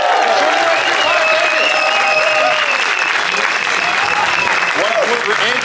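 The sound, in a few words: audience applause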